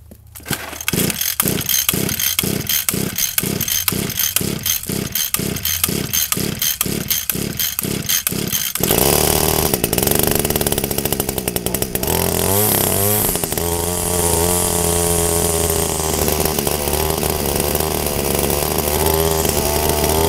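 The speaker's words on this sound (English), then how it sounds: "So let's just give it a few pulls and see if it'll start." An Echo 21cc weed eater, choked and unprimed, gets a quick series of rhythmic pull-start yanks before its small two-stroke engine catches and runs loud and steady close by.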